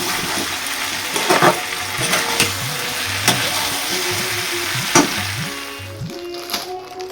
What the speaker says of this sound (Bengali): কিছুক্ষণ নেড়ে চেড়ে তারপর একটু সামান্য জল দিয়ে ঢেকে রাখবো